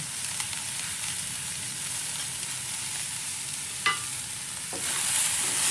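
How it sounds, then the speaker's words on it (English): Potatoes and beans sizzle steadily in a pan on a home stove in India, a continuous close frying hiss with a couple of brief utensil scrapes and clinks, no talking. "it's just going to cook until the potatoes are done, beans are done"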